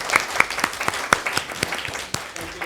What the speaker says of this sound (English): can we give a round of applause to Coase?